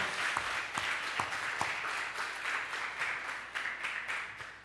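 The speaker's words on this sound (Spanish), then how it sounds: "Dele un aplauso al Rey de Reyes." A church congregation applauds steadily and continuously, a dense wash of many hands clapping at once, with a few sharper individual claps standing out.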